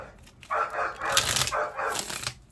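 A dog gives a few loud, rough barks in quick succession, close by, with faint background noise.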